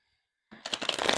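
Linen-finish tarot cards being shuffled, a sudden burst of crisp, fluttering riffles after a brief silence, close and fairly loud with no talking.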